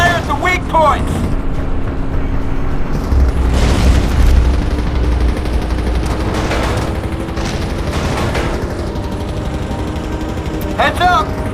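Explosive barrels in the sci-fi shooter N.O.V.A 3 are shot and blow up, giving a loud deep boom and rumbling blasts under continuous gunfire and combat noise, with shouted voices in the mix.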